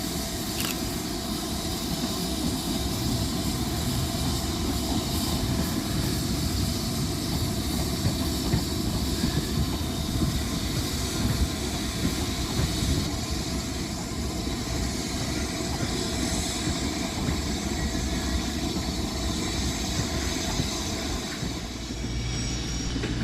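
A British Rail Class 350 electric multiple unit, 350368, stands at Crewe station on a London Northwestern Railway service, giving off a steady, loud hum and hiss that continues unbroken for over twenty seconds.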